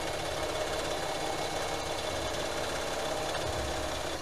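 A sewing machine stitches a meandering stipple pattern through a layered quilt, giving a fast, steady mechanical chatter that stays loud and even throughout with no talk.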